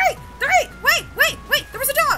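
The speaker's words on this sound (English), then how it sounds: "There's a dog!" A cartoonish video-game dog from Cave Story gives a run of five or six short, bright barks in an even rhythm, clear and loud in the foreground.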